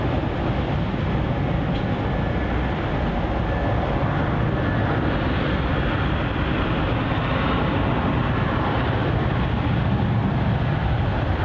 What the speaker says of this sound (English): As we have JQ566 departing off to Brisbane.